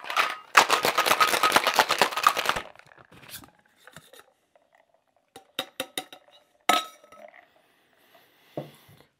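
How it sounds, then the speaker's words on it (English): Kentucky Buck bourbon cocktail shaken hard with ice in a shaker, a dense rapid rattle for about two seconds, followed by scattered clinks and taps of glass and ice. "We're going to give this a shake for about 10 to 15 seconds."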